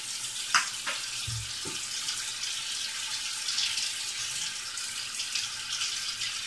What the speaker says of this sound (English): so now I'm going to wash my grapes with soap and water